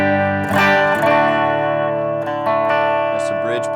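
A PRS electric guitar with a Paul Reed Smith 5310 bridge pickup rings out bright, sustained chords through an amp, with a few strummed attacks and long, shimmering decay.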